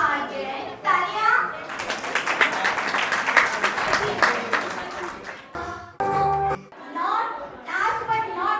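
Brief burst of audience clapping at an evening cultural program at a religious event, rising between stretches of a host speaking over a microphone, with music and more talk following.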